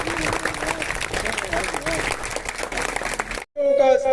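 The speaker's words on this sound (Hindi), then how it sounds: "जोरदार ताली सहयोग के साथ" Students and audience at a government Urdu and English medium primary school event clap loudly as a crowd. The applause stays sustained and dense, then cuts off abruptly into a brief silence followed by a short tonal sound.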